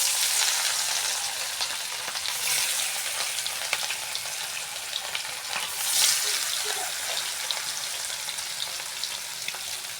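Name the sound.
catla fish pieces frying in hot oil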